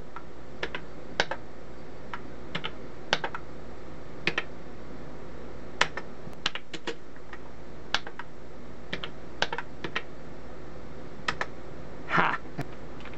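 Keys clack on a worn Motorola 9100-386 computer keyboard, scattered single presses and short bursts at an irregular pace over a steady machine hum, with no talking.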